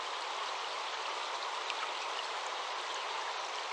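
A forest stream flows as a steady, even rush of water, continuous and moderately close, with no voices or other sounds over it.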